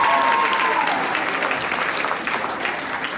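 A school audience claps for a trio of poets, a full round of crowd applause that is loud at first and then eases off gradually, with faint voices mixed into the clapping.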